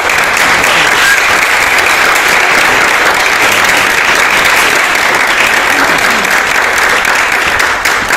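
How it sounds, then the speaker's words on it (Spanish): Sustained, loud audience applause after a talk and conversation on creative work, a steady dense wash of clapping that holds evenly throughout. "Muchas gracias y por favor aplaudan."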